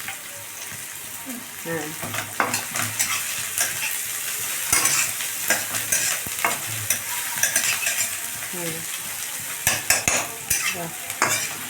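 Food sizzles and fries in a pan while a utensil stirs it with repeated scraping and clinking, close and steady, with people talking briefly over it.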